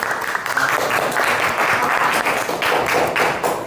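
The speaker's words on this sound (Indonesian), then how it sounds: "Tepuk tangan dong buat kita semua." Applause from a classroom of students, steady dense clapping that fills the room from start to finish with no pauses, loud and close.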